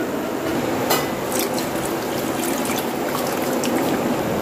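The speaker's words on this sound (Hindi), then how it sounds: "अब इतना आधा जग जो है हम पानी का और हंडिया में ऐड करेंगे" Water is poured from a jug into a cooking pot of aloo gosht, giving a steady, close liquid fill with some brief clinks, running continuously without speech.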